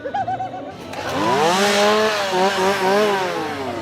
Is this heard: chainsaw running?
yes